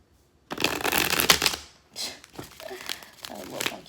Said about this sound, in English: let's get a couple more shuffles